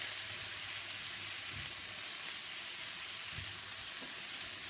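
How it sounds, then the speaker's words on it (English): Chicken fries in a frying pan with a continuous bright sizzle heard from a little distance, a few soft knocks underneath and no voices. "I'm going to be at the frying pan for a while. So that's still frying off"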